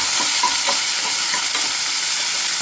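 Chopped onion frying in a pan while being stirred, a loud continuous sizzle with faint scraping strokes of the spoon, close by and with no talk.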